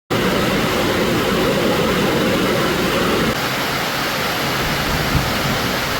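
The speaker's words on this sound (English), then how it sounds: "we hiked down to the majestic Pelon del Diablo waterfall" Pailon del Diablo waterfall in Ecuador's jungle, a steady loud roar of falling water with dense broadband rush, constant throughout and slightly softer after midway, no voices.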